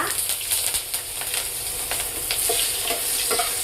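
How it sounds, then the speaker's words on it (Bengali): Green chilies and bay leaves fry in hot oil for a fish curry with cauliflower and potato, giving a constant close sizzle broken by the scrape and clatter of stirring. "তেলে এগুলো ভালোভাবে নাড়াচাড়া করতে হবে।"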